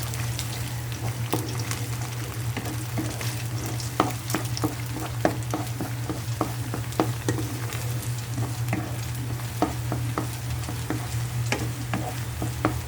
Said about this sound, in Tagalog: Ating haluin para sa fried rice to, guys.